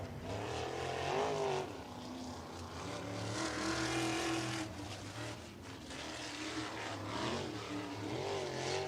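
USAC sprint cars race around a dirt track at Lincoln Park, their engines a steady, fairly distant roar that swells and fades as they pass through the turns.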